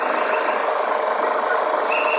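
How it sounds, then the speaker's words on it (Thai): Mercedes-Benz W210 E230, which has a misfire and lacks power, idling steadily after being started, with an even, continuous engine hum and no talking. "เครื่องยนต์ติดแล้วนะครับ ตอนนี้อยู่ในรอบเดินเบาครับ"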